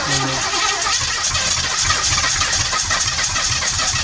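A 1970 Chevelle small-block engine, a Florida flood car sprayed with brake clean, cranks loudly and close by with a steady rhythmic churning from the starter, without catching.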